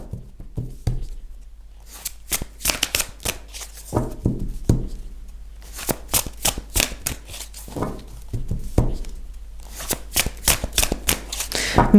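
Tarot cards shuffled by hand in quick crisp riffling bursts with brief pauses between them, close and fairly loud, with no talking over them.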